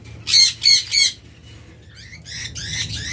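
A pair of blue conures gives three loud, harsh squawks in quick succession, followed by softer chirps and rustling close by.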